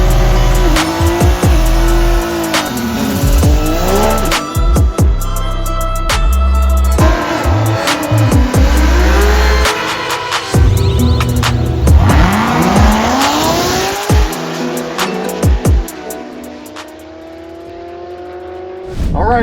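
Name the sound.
C8 Corvette Z06 drag racing run with drag radials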